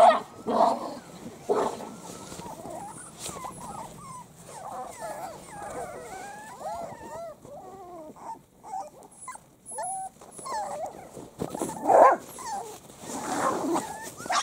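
Six-week-old puppies out with the dog pack, a busy mix of high whimpers, yips and short barks coming in bursts, fairly close, with people talking faintly in the background.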